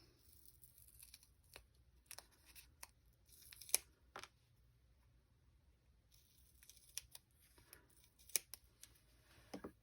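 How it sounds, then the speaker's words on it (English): Scissors snip foam tape into strips for cardmaking, a faint, scattered series of small crisp cuts and crinkles with no talk. "and I use foam tape again. And I cut mine in 3 strips."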